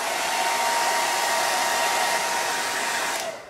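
A hair dryer blows continuously and loudly at close range to dry paint on a canvas background, holding a steady roar for several seconds before switching off at the end.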